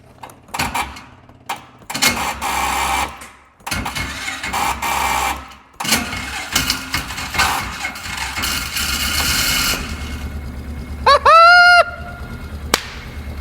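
Junk side-by-side UTV with its temperature light on, its engine cranking and catching, then running with a steady rough idle and revs, broken by clanks and a brief squeal near the end.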